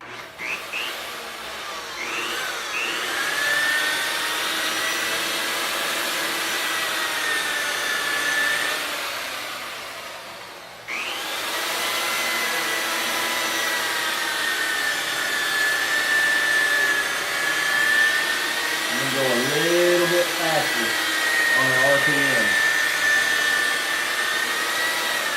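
A car polishing machine buffs paint to correct defects, giving a steady, loud whirring drone that dips briefly near the middle before resuming, with no talking.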